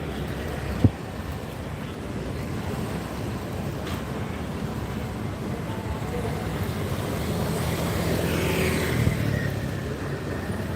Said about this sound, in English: This is the part that you got to watch out for, is this traffic